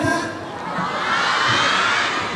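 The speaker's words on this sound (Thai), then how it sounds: "เดี๋ยวเรามาลอง เทสเสียง นะครับของกองเชียร์สีแดงหน่อย" A red cheer squad of students shouts together in a voice test at a school sports-day cheerleading competition, a loud, broad roar of many young voices that swells and holds steady.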